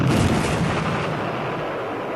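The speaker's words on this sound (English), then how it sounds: "All along these hills, the artillery, the tanks, the mortars, everything is letting loose on the Chinese." Heavy artillery, tank and mortar bombardment pounding hillside positions in the Korean War, a dense, continuous roar of overlapping booms and rumbling blasts that stays loud throughout and eases slightly toward the end, with no voices.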